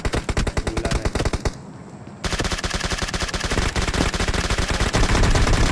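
Dense, rapid automatic gunfire fills a video game custom-room match, loud and continuous apart from a brief lull, then resuming in fast rattling bursts.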